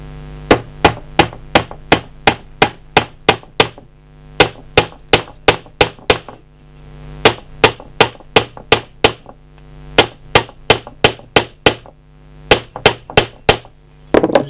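A Snap-edd Eazi sink nail is driven into timber with a hammer, producing rapid series of sharp, ringing close hammer strikes in bursts with brief pauses between them.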